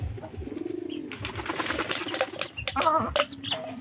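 Pigeons at a rural poultry and pigeon coop give soft cooing calls while wings flap and rustle in bursts nearby, mixed with faint clucking of other fowl.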